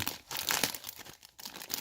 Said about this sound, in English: I'm gonna open this bag up